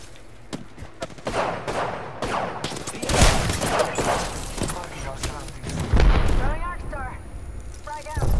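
Gunfire and explosive booms in the battle royale shooter Apex Legends, loud scattered shots and blasts in an ongoing firefight, with faint voices under the action.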